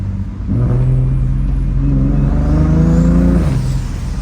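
A single-turbo BMW N54 engine revs through its exhaust, rising in one smooth climb and holding before it drops back. It is fairly loud and close, with no voices.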